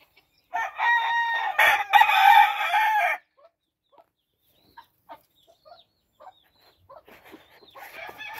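A flare-eyed pumpkin Halsey game rooster lets out one loud, close crow lasting a few seconds, followed by softer scattered clucks and small farmyard noises, with another call starting at the end.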